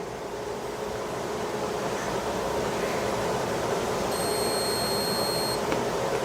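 A digital multimeter on continuity test across the legs of an inductor gives a steady high electronic beep lasting over a second, sounding alone over a constant broadband hiss of background noise.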